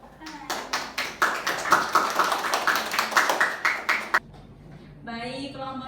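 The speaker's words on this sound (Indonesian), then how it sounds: "Tepuk tangan." A classroom of students claps together during a micro-teaching lesson, a dense burst of hands lasting about four seconds before stopping abruptly as a voice begins speaking.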